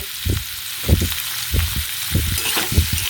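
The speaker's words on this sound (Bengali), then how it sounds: "আলু ভাজার তেলের মধ্যে আমি সিদ্ধ করে রাখা এঁচড়গুলো ভেজে নেব" Close, low sizzling of boiled jackfruit frying in oil left from frying potatoes, with rhythmic thumps and scrapes of stirring roughly every half second.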